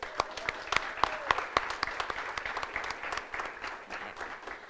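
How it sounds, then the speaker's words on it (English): Light applause from a modest audience at a college leadership recognition awards ceremony, a thin scatter of separate claps rising and then thinning out, heard from a distance at low volume with only faint voices in the room. "Can we give them one more round of applause, please?"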